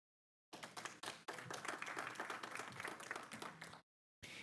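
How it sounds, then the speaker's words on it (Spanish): Audience applause welcoming a panel at the RedGob 2019 conference: a dense, steady wash of many hands clapping for about three seconds, with a brief break near the start and a short return at the end. "Les recibimos con un aplauso"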